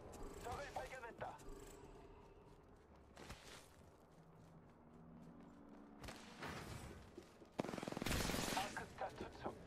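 Gunfire in a video game: scattered rapid bursts of weapon fire, heaviest near the end, amid footsteps and thuds, with voice callouts heard between the shots.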